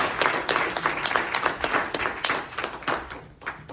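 A Spanish-speaking church congregation claps in praise, a thick, continuous wash of hand claps with a few louder, pulsing accents throughout.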